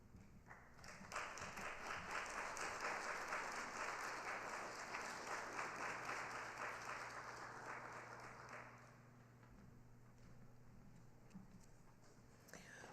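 Sustained audience applause after a public reading of the Declaration of Independence, steady and full for about eight seconds before thinning to scattered claps and fading out.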